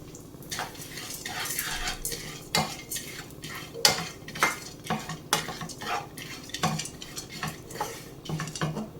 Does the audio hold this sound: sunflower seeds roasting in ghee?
yes